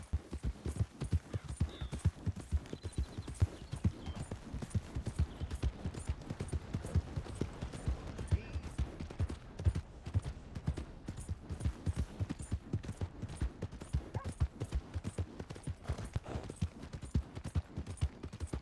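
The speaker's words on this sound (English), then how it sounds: "My horse!" Steady, rapid hoofbeats of a horse in Red Dead Redemption 2 clip-clopping continuously at a brisk trot, faint and even throughout with no talking.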